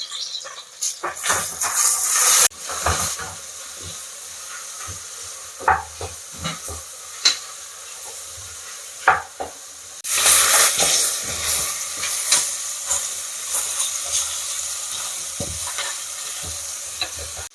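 Large onions sautéing in a pan for Punjabi biryani: a hissing sizzle that swells and fades with repeated spoon knocks and scrapes against the pan, up close and without talk.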